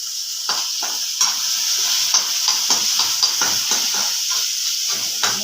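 Coriander powder and turmeric masala stirred in a frying pan: a constant bright sizzle and hiss with repeated scraping strokes of a spatula in an uneven rhythm, close and loud, no talk.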